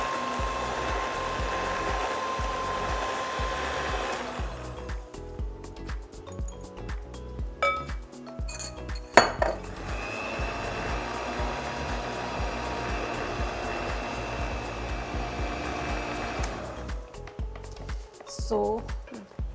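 An electric mixer whirs steadily through vanilla cupcake batter, loud and close, stopping partway with a few clinks of utensil against the bowl before starting up again.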